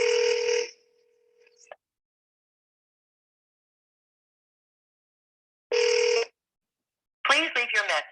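Telephone tones on a call placed to a motivated seller: a long electronic tone, a gap of near silence, a second short tone, then a voice speaking briefly at the end.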